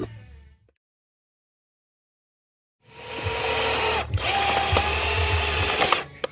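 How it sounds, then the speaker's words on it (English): A power drill bores a pilot hole in the frame of an R6 sport motorcycle: a loud, steady whirring grind that starts after a silent pause and runs continuously to the end, with one brief dip midway. "So now I have a hole drilled for my pilot hole"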